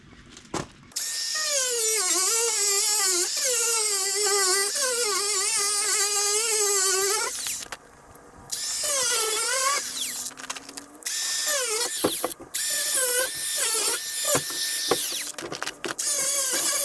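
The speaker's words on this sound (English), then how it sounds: "we used a cut-off wheel to cut those steel bars and cut that plastic out" A cut-off wheel slices through the steel bars and plastic of an IBC tote, a shrill whining grind that rises and falls in pitch in repeated bursts separated by short pauses, close and loud, with no voices.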